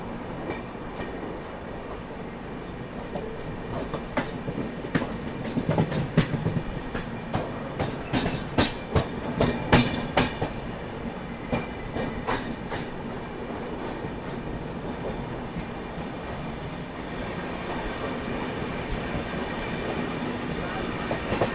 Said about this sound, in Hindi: दानापुर हड़पसर स्पेशल यानी कि दानापुर पुणे स्पेशल WAG9।